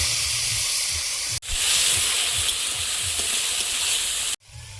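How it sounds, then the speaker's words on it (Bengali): Whole cumin seeds and ginger fry in hot oil, producing a loud, continuous hissing sizzle broken by two abrupt cuts, close and without any talking. "বিটুলিটা ভেজে নেব গোটা জিরে আদা"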